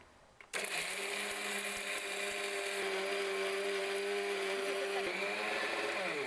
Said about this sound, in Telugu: ఇప్పుడు ఒకసారి మిక్సీ పట్టేసుకుందాము